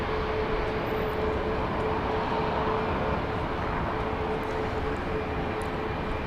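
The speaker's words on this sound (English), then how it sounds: "You're looking at a 737-700, which is going to Tulsa, Oklahoma. It is Southwest Flight 1559." A Southwest Boeing 737-700 airliner at Dallas Love Field gives a steady, loud, broadband jet roar with a faint whine, continuous and unbroken throughout.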